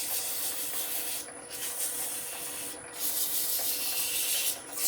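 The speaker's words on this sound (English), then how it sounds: "Let's just very lightly denib that now dry surface." Abrasive paper rubs steadily against a freshly turned wooden bowl spinning slowly on a lathe, lightly denibbing the dried, raised grain. The hiss is continuous and close, with brief pauses.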